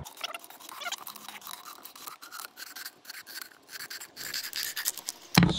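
A knife or scissors cuts around the edge of a plastic bottle to make a fishing trap, giving a steady scratchy rasping that runs almost continuously at close range with no talk.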